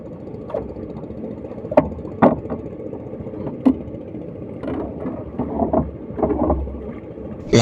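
A small boat heads out to sea with a low motor hum underneath, broken by scattered thumps, knocks and water splashes against the hull, with a brief louder gust of noise at the very end.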